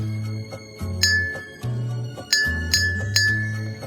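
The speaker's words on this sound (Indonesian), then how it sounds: "pukul perlahan sisi gelas dengan sendok logam seperti ini" A metal spoon taps the side of a glass of water several times, each strike ringing out with a bright, clear tone that decays over a soft low hum.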